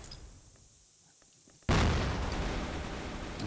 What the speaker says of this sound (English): but the grenades are coming in.